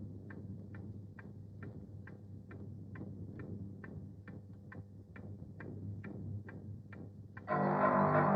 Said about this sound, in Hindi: तुम्हारे कमरे में घड़ी नहीं है? क्या तुम्हें इस घड़ी की आवाज सुनाई नहीं दी?